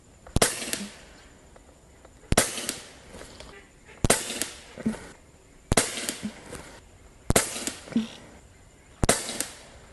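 Umarex Gauntlet 2 .25 caliber airgun firing at a target: six sharp, evenly spaced shots roughly every second and a half, each a crisp crack followed by a faint impact tap.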